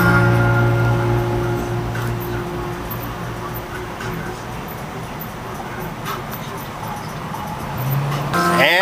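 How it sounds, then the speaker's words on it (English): Cars moving slowly through rush hour traffic past an accident, a steady broadband road rumble with engine hum close by throughout, swelling slightly near the end. "it's still rush hour traffic"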